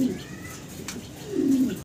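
Caged pigeons, a breeding pair of fancy Maltese birds, coo softly nearby in two low, throaty bursts, one at the start and a longer one near the end, with no talking.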